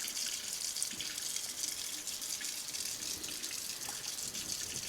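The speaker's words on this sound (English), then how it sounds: "Be sure to rinse your rubber policeman with a little bit of DI water if there's any copper left." Deionized water runs from a lab wash bottle or tap over a rubber policeman in a chemistry lab copper-cycle experiment, a soft continuous trickle and splash heard faintly with no talking.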